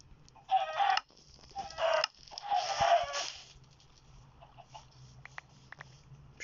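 Video game chicken clucks and a short rooster-like crow come in a few quick bursts, fairly close, then fade to quiet background with faint scattered clicks.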